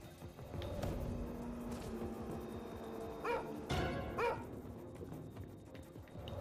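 A dog barks twice in the horror video game Sker Ritual, played on nightmare difficulty: short, harmonic yelps close together midway through, over a steady bed of game ambience and music.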